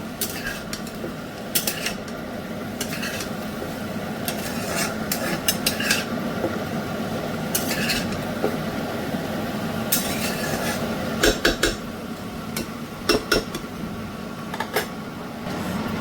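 Chicken and vegetables being stir-fried in a pan with a steady sizzle, a spatula repeatedly scraping and clattering against the metal in irregular bursts, close and fairly loud with no talking.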